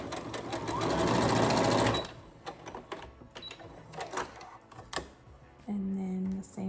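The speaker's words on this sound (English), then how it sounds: "I'm going to just sew right up on the edge of here with the back stitch." A sewing machine back-stitches along the edge of a fabric face mask, a fast loud whirring run followed by scattered clicks and handling noises, then another brief stitching burst.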